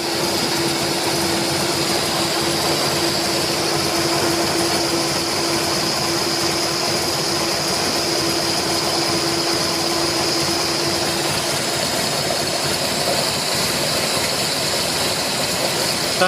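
A Triumph TR4 engine fitted with twin SU HS6 carburettors runs at a raised, steady speed, a loud continuous drone with a constant hum and no pauses.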